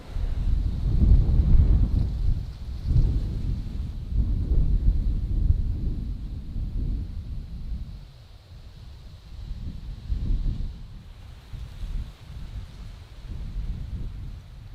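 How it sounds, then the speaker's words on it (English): Strong gusting wind on a bald mountaintop buffeting the microphone with a deep rumble, rising and easing in waves, loud and continuous throughout. "the mountain's bald and right now it's very windy"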